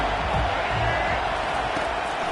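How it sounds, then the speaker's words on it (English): A stadium crowd cheers loudly and continuously at a football game, urging on the home defense, a thick, unbroken roar filling the space. "Listen to this crowd just shaking the girders of this place, trying to help their defense."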